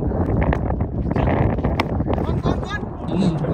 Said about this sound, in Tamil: ஏன்னா காற்று எக்கச்சக்கமாக அது ஷார்ட்லாம் பார்த்தாலே தெரியும் எப்படி பறக்குதுன்னு